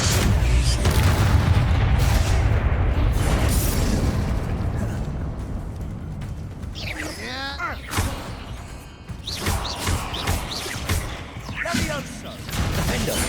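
Bombarda explosion spells in Hogwarts Legacy, with loud booming blasts and bursts in a stone catacomb setting, several explosions spread across the stretch among spell effects and game sounds.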